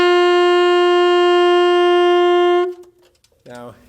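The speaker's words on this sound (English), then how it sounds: "that's going to be your G, and it should sound like this." A tenor saxophone holds a single G, a sustained, steady, close and clear note lasting over two seconds that then cuts off. A short voice follows.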